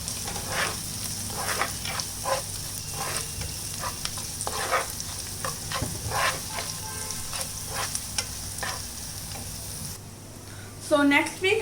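Teriyaki chicken sauce stirred and sizzling in a hot pan, with steady frying crackle and repeated scraping strokes of a utensil, close up, no talk.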